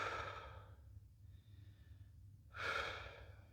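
Deep breathing during a full-body stretch: a long slow exhale, a quiet pause, then a fresh strong breath, close and soft, with no talking.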